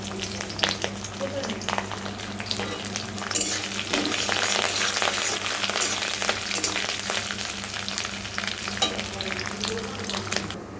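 Bay leaf, coconut and curry leaves sizzling and frying in a pan, a steady hiss that grows denser after a few seconds, with occasional stirring clinks and no talk.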